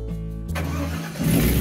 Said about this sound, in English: When the fan turns on, it gets really loud.